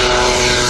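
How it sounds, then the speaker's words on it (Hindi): An Ababil-3 drone taking off from a runway, its propeller engine a loud, steady, close drone for under a second. "पहला ड्रोन है अबाबिल 3 जो रनवे से टेक ऑफ करता है।"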